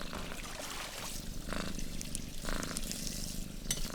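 Hodge, a sleeping pet cat, purrs in a steady, close rumbling drone with soft rhythmic swells, continuous throughout with no talking.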